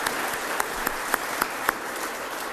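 Clapping from residents at a ribbon-cutting ceremony for Las Cruces Fire Station 3, a steady wash of applause with a few louder, sharper claps standing out near the front.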